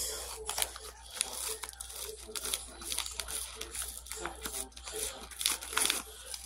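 Packaging being torn open after a scissor cut, with dense crinkling and ripping of plastic or paper wrap, close and continuous in bursts, with no talking.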